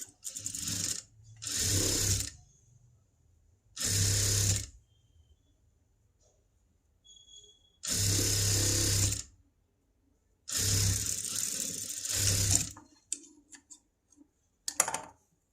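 A sewing machine runs in several separate close bursts of a few seconds each, stitching down a folded fabric strip for a princess cut blouse with a boat neck, with quiet gaps and small handling clicks between runs.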